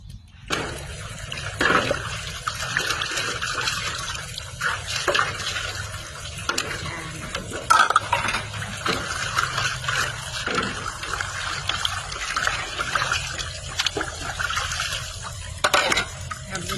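Running water splashes steadily with scattered clinks and scrapes of dishes being handled, continuous and close throughout.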